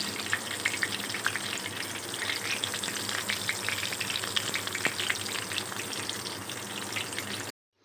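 Stuffed karela, bitter gourds filled with minced meat, frying in oil with a constant crackling sizzle and light popping, steady and close, then cutting off abruptly near the end; no one speaks.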